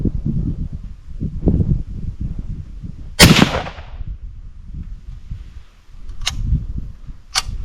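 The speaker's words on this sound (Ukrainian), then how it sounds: "Приблизно так ми стріляємо з триподом." One loud gunshot from a tripod-supported rifle cracks out with a lingering echo, followed later by two sharper, quieter reports over low outdoor rustling.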